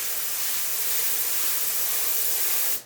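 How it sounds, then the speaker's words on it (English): An airbrush test-sprays weathering paint for model intermodal containers in one steady, close hiss of air lasting nearly three seconds before cutting off abruptly. "We're going to load it here into the airbrush and do a couple test sprays."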